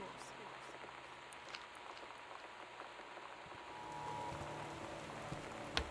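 Steady rain in the video game Gone Home, a dense patter like torrential rain on a surface with gusting wind, constant and moderately close, swelling slightly toward the end with a brief sharp click near the finish.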